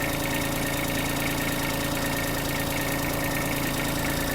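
The warmed-up diesel engine of a Hitachi CX-150 mini tractor idles steadily and loudly, with an even, knocking chug that holds without change throughout; no one talks.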